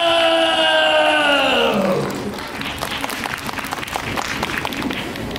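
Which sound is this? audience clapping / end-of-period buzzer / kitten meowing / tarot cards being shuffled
audience clapping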